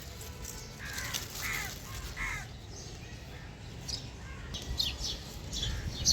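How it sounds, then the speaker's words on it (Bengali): A crow cawing near a rooftop vegetable garden, a few distinct caws at a moderate distance, repeating irregularly over quiet outdoor ambience. "কাকটা অনেকক্ষণ থেকে ডাকতেছে"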